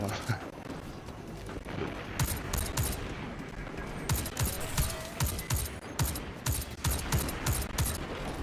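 Rapid, loud bursts of gunfire from the video game Destiny 2 crackle in dense volleys, with a player talking over the shooting.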